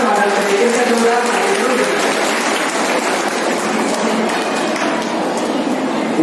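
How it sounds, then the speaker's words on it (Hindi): An audience at a school annual function and award ceremony applauds as a guest is welcomed onto the stage, with dense, sustained clapping filling the whole stretch at steady loudness. "जोरदार तालियों से स्वागत करें।"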